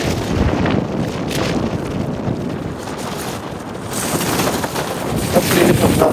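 Strong storm wind off the sea in Jaffna buffets the microphone with a loud, continuous roaring rumble, gusts swelling and easing over several seconds with nothing else clearly audible.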